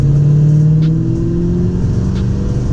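A 2002 Chevrolet Camaro SS with a rebuilt transmission accelerates on the road, its engine note loud and close and rising in pitch, with no talking.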